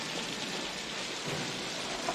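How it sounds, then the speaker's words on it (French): Heavy rain pours steadily from a film scene, a dense constant hiss with a low rumble of thunder underneath, no talk. "Et avec toute cette pluie, nous avons la foudre."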